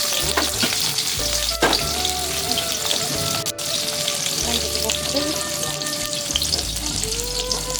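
Cumin seeds frying in hot oil in a pan: a dense, continuous crackle and pop like light rain on a surface, steady and close, with a few sharper clicks and low rumbling underneath.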